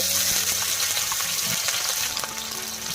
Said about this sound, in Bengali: এবারে মা পেঁয়াজ দিচ্ছে কড়ায়, রান্নার জন্য প্রস্তুত চলছে